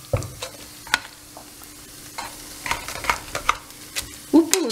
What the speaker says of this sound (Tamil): இது பொட்டேட்டோ ஸ்மாஷர் வச்சு நம்ம ஸ்மாஷ் பண்ணோம்னா நல்லா ஸ்மாஷ் ஆகும்